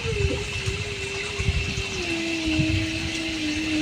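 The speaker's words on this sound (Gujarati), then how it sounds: "બેરલ ભરાઈ ગયું." Water pumped into a barrel on a Gujarati farm, a steady rushing flow with a rising tonal whine as the barrel fills, continuous and fairly close, with faint background sounds.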